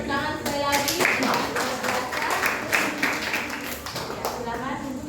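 Classroom audience at a physics teacher-training presentation clapping for a group after their answer; a short burst of lively, uneven hand claps, close and fairly loud, with voices mixed in.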